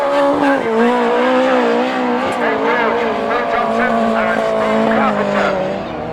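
Autograss race cars at a dirt track slide sideways, engines screaming at high revs with wavering pitch as they power through the turn, loud and continuous, with a commentator's voice running underneath.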